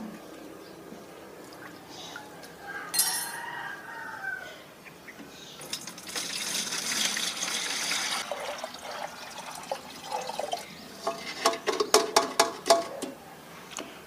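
Rice washing water poured into a watering can for compost use, a trickling then gushing liquid pour mid-clip with some clinking of the container, moderately close, no speech.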